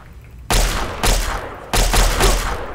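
Heavy automatic gunfire in Fallout 3, with loud sustained bursts of shooting that start abruptly and come in three close, dense volleys with brief gaps between them.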